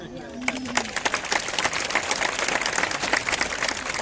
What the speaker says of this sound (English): Very nice, arena. Big applause